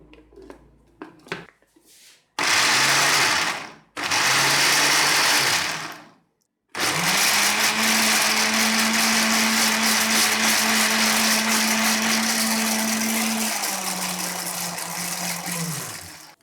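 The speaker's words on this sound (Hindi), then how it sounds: "अब ब्लेंडर को चलाते हैं।" A loud blender crushing pomegranate seeds for juice roars in bursts: two short pulses with brief pauses, then a long continuous whirring run that winds down at the end.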